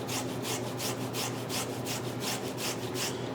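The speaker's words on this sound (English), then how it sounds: "we're going to actually grate it into a fine paste" A garlic clove is grated into fine paste on a microplane for a paella broth, making a rhythmic series of about a dozen close, raspy back-and-forth strokes, steady and evenly paced with no talking.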